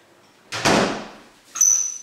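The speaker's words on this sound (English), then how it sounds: "Just going to close the door because the washing machine is on." A door is pushed shut in a home kitchen while a washing machine runs elsewhere, giving a broad thud followed about a second later by a sharper latch click with a brief squeak, close and fairly loud, with no talking.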